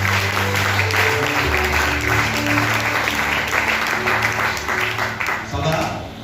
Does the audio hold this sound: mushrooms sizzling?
no